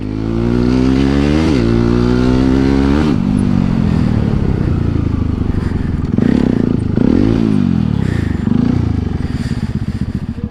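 A motorcycle ridden on a road near Nagarkot, Nepal, roars loud and close, its engine note rising and falling through several revs and gear changes, with some rattling clatter and no talk.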